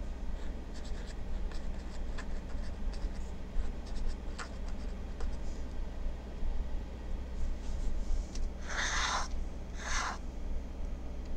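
A very flexible dip pen nib with a small embossed rose scratches across paper in soft, steady strokes, quiet and close, with two louder scraping bursts near the end.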